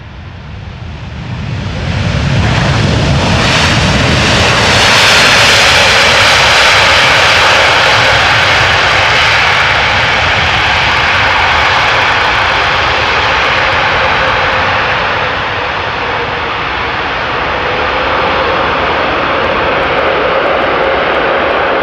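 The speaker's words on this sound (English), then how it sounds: "Reverse thrust that you hear there" A KLM Boeing 787-10 Dreamliner lands, and its engines swell into a loud, sustained roar of reverse thrust that holds steady before dipping and rising again, heard close and powerful.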